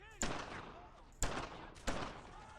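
Three sharp, echoing rifle shots spaced about a second apart in the World War II shooter Brothers in Arms: Earned in Blood, each a loud crack with a ringing tail.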